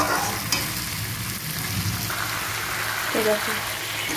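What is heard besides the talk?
meat being stir-fried with spices in oil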